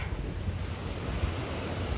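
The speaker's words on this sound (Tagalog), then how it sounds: "Ito yung ating dagat, ayan o. Oh. Rough sea." Rough sea waves wash against the Manila Bay shoreline, a continuous steady surf roar mixed with wind buffeting the microphone, fairly faint and with no talk.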